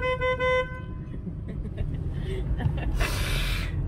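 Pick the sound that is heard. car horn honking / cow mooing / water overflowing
car horn honking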